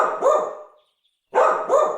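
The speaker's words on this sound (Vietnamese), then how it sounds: "Con chó," A dog gives two close, loud barks separated by a short silence, each a sharp bow-wow burst.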